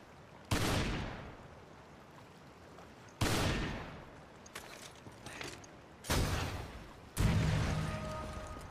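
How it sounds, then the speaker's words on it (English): Shotgun blasts in the video game Resident Evil 5. Four or five loud booming shots come at uneven intervals, each followed by a decaying tail, with a quieter mechanical clack between shots. "Can I hit it with a shotgun?"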